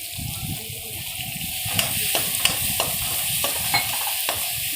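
Chili powder and tomato rice fry in a pan with a steady close sizzle, while a utensil stirs and scrapes in short irregular clicks throughout.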